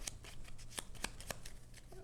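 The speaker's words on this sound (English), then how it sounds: "We will shuffle those up" Deck of board-game cards being shuffled by hand, a quick series of soft riffling flicks and crisp card snaps, close and quiet, with no talk.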